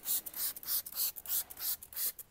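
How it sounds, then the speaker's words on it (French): Insect cleaner is sprayed onto car bodywork and rubbed in by hand, a close, rhythmic series of brisk hissing scrubbing strokes, about seven in quick succession. "Bon, on remet un petit peu de spray"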